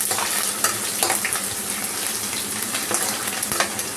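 Crushed garlic frying in a pan for a soupy veg Maggi, steady close sizzle and crackle with scattered pops and stirring scrapes throughout, no talk.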